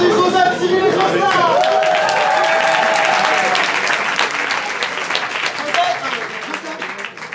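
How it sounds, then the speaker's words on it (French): Sustained applause from an audience greeting performers at an open-stage event, dense and loud throughout with crowd chatter mixed in, easing slightly toward the end. "On applaudit Joseph, Cyril et Jocelyn."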